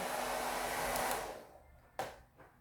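A handheld hair dryer blows steadily at close range with a broad whooshing roar, then cuts off partway through, leaving quiet with a few faint handling clicks.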